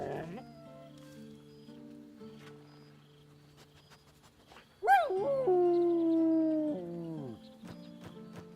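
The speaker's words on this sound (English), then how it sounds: "Scratch barks merrily in something like agreement." In a video game, a dog named in camp scenes barks and then whines in a long, drawn-out, howling tone, close and clear, preceded by quieter ambient game sounds, with no talking.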